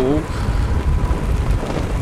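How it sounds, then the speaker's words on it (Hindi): Steady heavy rain roaring close up, a dense hiss with a low rumble beneath it and a brief tonal sound at the very start. "बारिश वही पेस पे है, सिर्फ बीच में मुझे थोड़ी सी ज़्यादा लगी।"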